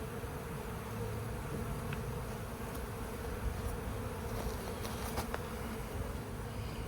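A swarm of honey bees buzzes steadily at their new hive, a dense, continuous hum heard close up, with occasional louder individual bees passing near.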